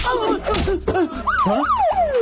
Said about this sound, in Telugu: ఇదేంట్రా సైరన్